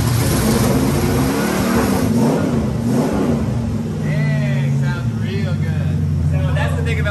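Carbureted car engine catching on starting fluid and revving, loud and near with rising and falling pitch, a voice talking over it throughout.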